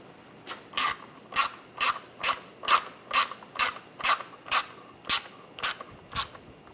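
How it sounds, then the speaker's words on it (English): Ratcheting a screw down on the water pump of a 2009-2013 BMW 328i xDrive 3.0L inline-six, a steady run of about thirteen crisp mechanical clicks at an even rhythm, close and alone with no talk. "Tighten that screw down."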